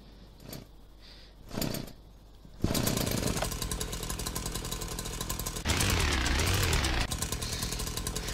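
A virtual chainsaw in a VR game starts after two short bursts, then runs as a loud, steady buzzing engine drone with one rise in revving partway through.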